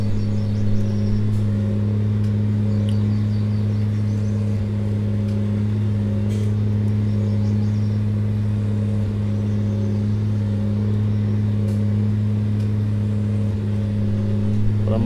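A farm vehicle engine drones steadily in Landwirtschafts-Simulator 19 on the Nordfriesische Marsch map, a constant low rumbling hum held at even loudness from start to finish with no pauses.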